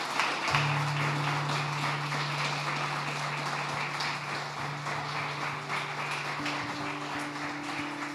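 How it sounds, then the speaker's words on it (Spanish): A church congregation applauds in praise, sustained scattered clapping filling the room at moderate level alongside a held low organ or keyboard tone. "Denle un fuerte aplauso al Señor"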